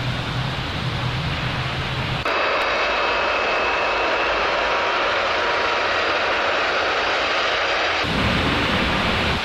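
Jet engines of a KLM Boeing 747 roar steadily while the airliner taxis on the runway at Los Rodeos Airport, Tenerife, the broadband noise shifting abruptly in tone partway through before returning.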